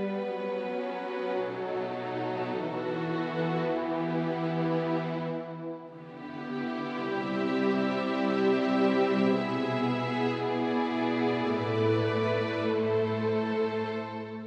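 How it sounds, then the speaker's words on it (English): Soft flautando orchestral strings from the Synchron Prime library swell in sustained chords with a boosted dynamic range, a brief dip in the middle, and low sustained notes underneath, steady and moderately quiet with no voices. "we will utilize the dynamic range slider for all Flautando strings as well"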